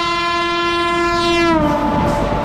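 The LTT Patna Janta Express passenger train sounds a loud, steady horn blast that holds and then drops in pitch, over continuous rolling rail rumble.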